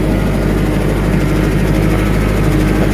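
A farm tractor engine runs steadily near a brush pile burn, a loud, constant low rumble that continues through the whole stretch with no speech.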